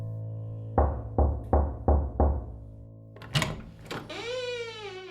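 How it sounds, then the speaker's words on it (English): Five firm, evenly spaced knocks land on an apartment door, close and loud. Brief scuffs and a rising whine follow. "Jack knocked on the door of Jesse's apartment"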